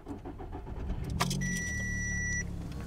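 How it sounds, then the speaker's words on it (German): An Audi A3 Sportback 8PA with a somewhat weak battery is started after the clutch is pressed: a short cranking whir catches into a steady idle, with a thin electronic tone sounding briefly, no talk. "Wir betätigen einmal die Kupplung und starten den Motor."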